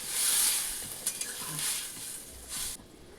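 A spoon stirs water into a spicy tengra fish curry with spring onions in a hot pan, making close scraping swishes over a sizzle for a few seconds with no voices.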